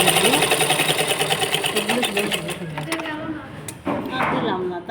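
A sewing machine stitches palazzo trousers with a fast, close, rhythmic whirring clatter that stops briefly near the end, then picks up again. A voice speaks alongside it.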